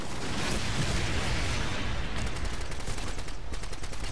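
Rapid AK rifle fire in a Call of Duty match on the Rust map, a dense, loud stream of shots with more distinct bursts toward the end.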